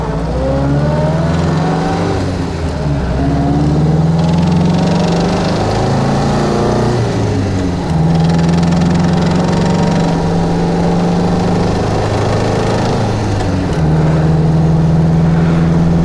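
A 1951 MG TD engine runs steadily and climbs through the revs while driving, with pitch rising and falling as gears shift, loud and close with no talking.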